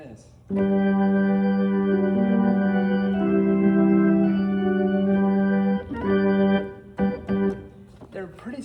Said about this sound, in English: And the upper manual A preset sounds like this.